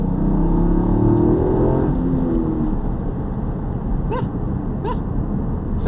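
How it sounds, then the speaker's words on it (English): A steady, droning Toyota GR Yaris engine heard from inside the cabin, loud and continuous, with a low rumble that shifts slightly in pitch early on. "the car is quite loud inside, not necessarily from a exterior noise coming in, but just from an engine note"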